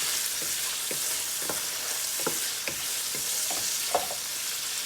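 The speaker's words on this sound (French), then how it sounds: "On continue de la faire revenir notre viande." Meat browning in a pan for Thai-style fried rice, sizzling steadily while a utensil scrapes and stirs in a series of short, irregular strokes, with no voices.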